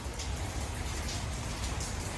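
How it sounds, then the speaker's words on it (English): Steady rain falls on a rainy day in Nashville, a constant hiss of drops patters on surfaces nearby, with no voices over it. "it's a rainy day in Nashville"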